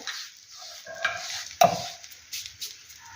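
An aloo paratha laid in a few drops of ghee on a hot pan gives a soft sizzle, with a sharp clatter as it lands midway and light scraping around it; no talking.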